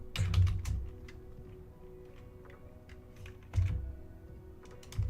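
A prompt is typed on a computer keyboard, a few scattered close key clicks and a couple of heavier thumps, likely the spacebar or enter key, in a quiet room.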